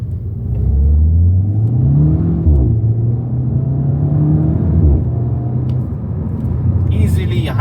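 A 2009 Volkswagen GTI engine revs and pulls hard, its pitch climbing and dropping sharply at each quick paddle-shift gear change, loud and close throughout.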